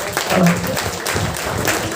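An audience at a World Mother Tongue Day seminar claps steadily, a dense, fairly loud patter of hands while a speaker's voice continues over the applause.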